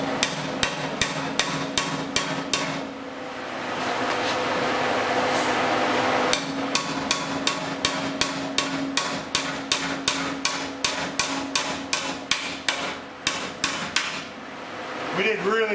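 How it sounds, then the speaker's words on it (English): Rapid, evenly spaced light hammer taps bending metal bumper trim on a Pontiac 4x4, close and sharp, with a pause of steady background hum in the middle before the tapping resumes. "So I'm going to do that just with a little light hammer"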